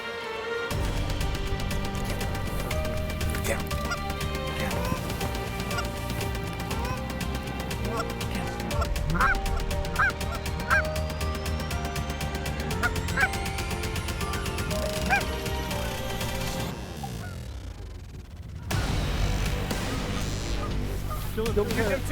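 Canada geese honk in a dense, loud chorus during a goose hunt, overlapping calls carrying on for a long stretch with a brief lull near the end before resuming.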